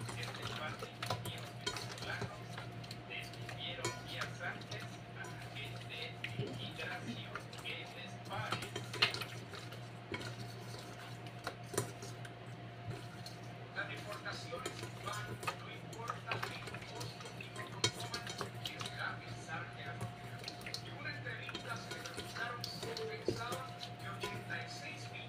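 Fish soup being stirred in a cooking pot, made without tomatoes, giving a steady scraping and clinking of a utensil against the pot over a constant low hum, with soft taps and light bubbling throughout.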